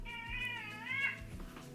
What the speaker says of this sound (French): On dirait que j'ai un autre chat dans la gorge, mais c'est Kiki qui me juge parce que je viens de me déroumer.